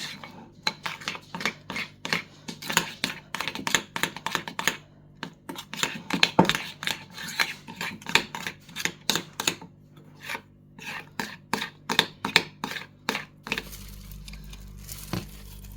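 A utensil scrapes rhythmically around a bowl while stirring a mixture for pączki doughnuts, a brisk series of dry rasping strokes with occasional clinks, close and steady, with no talk.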